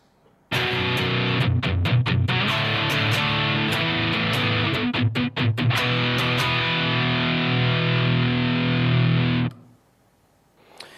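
Heavily distorted electric guitar plays a metal rhythm power-chord progression at slow tempo, with tight palm-muted chugs and sharp picked accents, loud and up close, ringing out and then stopping abruptly.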